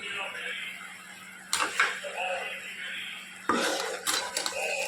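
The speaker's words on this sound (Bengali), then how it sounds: "এটা আমি আমড়ার মধ্যে দিয়ে দেবো" Amra chutney being made with yogurt and milk powder: a spoon scrapes and knocks against a metal pan in two bursts of clattering stirring, close and bright, while a person talks over it.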